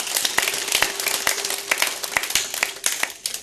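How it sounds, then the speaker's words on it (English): A modest crowd at a Catholic archdiocese catechist day gathering claps by hand, individual sharp claps audible in an uneven rhythm, fairly close and without speech over it. "Can we give a little clap,"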